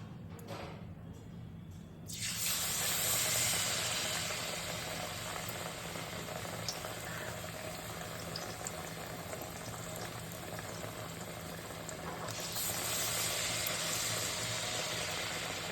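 Pumpkin pakoras in a rice-flour batter sizzle in hot oil, a dense steady frying hiss that swells loudly once the batter drops in and continues unbroken, with a brief quieter gap near the start.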